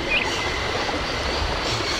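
A train stands in a station in the video game Syberia, heard as a steady rumbling hiss of rail ambience with a brief high chirp near the start, and no voices.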